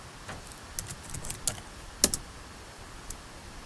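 Scattered clicks and taps on a computer keyboard, sparse and fairly quiet, with a few sharper keystrokes in the middle over a low room hiss.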